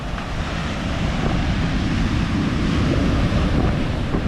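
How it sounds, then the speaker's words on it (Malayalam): Big sea waves surge onto the shore during a kallakkadal swell surge. The result is a loud, continuous, close roar of churning surf with heavy low rumble and no talk. "വലിയ തിരമാലകളാട്ടോ."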